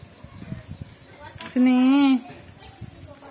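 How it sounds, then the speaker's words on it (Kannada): A single short, high, tonal cheep, close by and clear, stands out against faint household background noise. "ನೋಡಲ್ ಸಣ್ಣ ಸಣ್ಣ ಕೋಳಿ ಮರಿ ಅದ"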